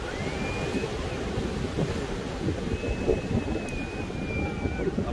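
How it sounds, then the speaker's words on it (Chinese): Strong Pacific Ocean surf rumbles and crashes along the pebbly shore at Qixingtan, Hualien, with a continuous heavy roar and faint whistle-like tones above it. "在这里大家看到这个潮这么厉害"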